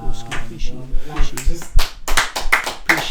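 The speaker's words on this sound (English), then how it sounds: "Just a round of applause for the work you guys have put in." A few people clapping in a small room during a podcast-style interview, a short run of distinct close hand claps following a stretch of talking.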